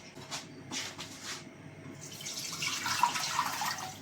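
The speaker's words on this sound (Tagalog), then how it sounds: "Tapos pupunuin ko lang yung tubig yan." Tap water runs while a container is filled for a water bath for creamy leche flan, starting as soft intermittent splashes and then settling into a continuous gentle hiss of flowing water, quiet and close.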